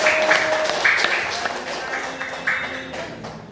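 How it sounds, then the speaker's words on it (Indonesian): A classroom claps for a student group, a broad wash of applause with scattered sharp claps that gradually thins out, while people talk over it. "Beri tepuk tangan untuk kelompok 1"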